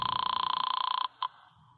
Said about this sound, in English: I grabbed it and picked up the phone.